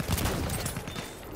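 A single M97 Sweeper shotgun blast in the Battlefield 1 video game, a loud burst with a rumbling tail and clattering game noise around it.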